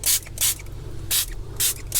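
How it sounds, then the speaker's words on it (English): Cleaner sprayed from a trigger bottle inside a dirty fridge with the shelves removed: four short, sharp hissing bursts in an uneven rhythm, close and crisp, with faint plastic clicks and rubbing between them. "So I'm going to just spray it on."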